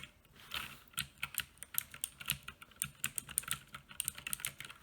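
Rapid, steady clicking of keys on an Uhuru UMK-100 wired 60% mechanical keyboard, close and crisp with uneven typing rhythm and no talking.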